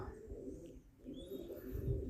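Pigeons at a home loft coo in low, throaty bursts close by, one phrase early and a fuller one later, with a faint high chirp drifting through the middle.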